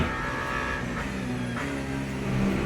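A race car engine in the Le Mans Ultimate video game whines and revs at high pitch, steady and fairly loud, with a slight rise near the end.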